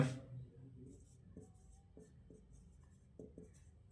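Chalk or marker scratching on a board during a class 12 3D geometry math lecture, several short separate strokes with brief pauses, fairly quiet and close, with no talking over it.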